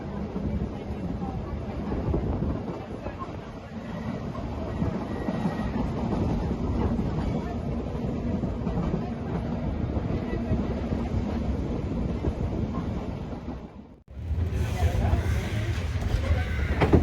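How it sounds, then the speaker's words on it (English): An old electric train on the Isle of Man rumbles and rattles steadily along the track with voices talking over it, then the noise briefly cuts out before resuming louder. "this lovely old electric train line all the way through the Isle of Man"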